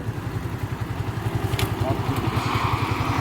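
A motorcycle engine idles and runs at low revs during a riding lesson, throbbing in a steady pulse close by, with a few faint clicks and clatter on top.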